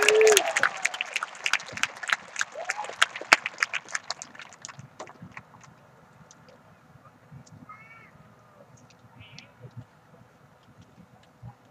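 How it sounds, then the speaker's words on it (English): At a 2022 high school graduation ceremony, audience applause thins out and fades over about five seconds. Scattered bird calls follow in the quieter stretch. "one last round of applause for everybody sitting in front of me tonight,"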